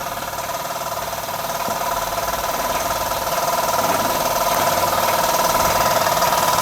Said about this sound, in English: Swindon vertical boiler engine running under its own steam